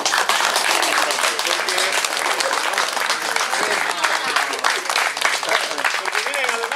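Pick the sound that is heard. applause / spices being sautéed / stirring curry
applause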